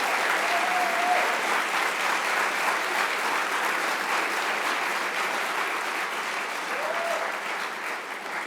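Sustained audience applause filling a large hall at a summit on disabilities, steady and dense clapping throughout with a few faint voices underneath.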